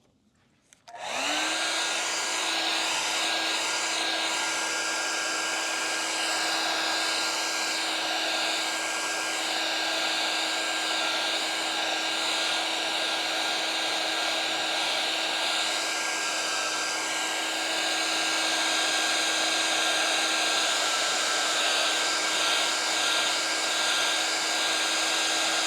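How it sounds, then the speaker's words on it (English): A hair dryer blows steadily on an art project, switching on abruptly and running as a loud continuous whine with a fan hiss for the whole stretch, no talking. "Now, need to blow dry again."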